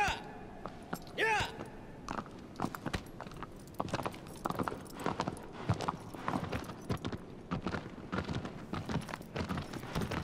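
Horse galloping in the video game Shadow of the Colossus, a rapid run of rhythmic hoof clip-clops, steady and moderately loud, with a brief whinny near the start.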